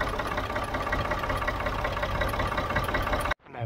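A Ford 3000 tractor diesel engine idles with a loud, steady knocking chug close by, then cuts off abruptly near the end, leaving quiet.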